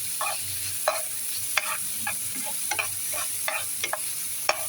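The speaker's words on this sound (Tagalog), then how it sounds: "Hintay lang po natin na maluto ang kamatis." Tomatoes cook in a hot pan, giving a steady sizzle close by. Regular scraping strokes from a spatula stirring them sound over the top of it.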